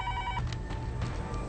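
Telephone rings on a call in a hospital, a short electronic tone that stops, then faint background noise, with no talking.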